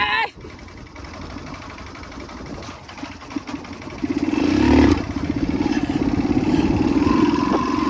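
A motorcycle with failing brakes and a poor throttle labours up a steep, rough village hill road, its engine droning close then rising to a strained, louder rev that holds steady to the end.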